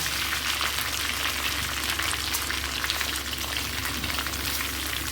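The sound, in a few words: chicken frying in a pan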